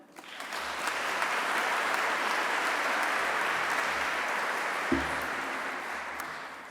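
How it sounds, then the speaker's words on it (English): Sustained audience applause at a leadership summit event, a broad steady wash of clapping that swells within the first second and holds evenly at moderate loudness throughout, with a brief low thump near the end. "Please give a round of applause for Anne."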